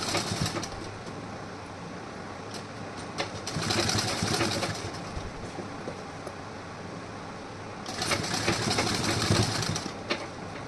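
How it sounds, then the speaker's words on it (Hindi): A sewing machine stitches a folded blouse seam in two sustained bursts of rapid mechanical whirring, close and loud, with a quieter low hum and handling between them. "ऐसे आपको फोल्ड करके सिलाई लगानी है"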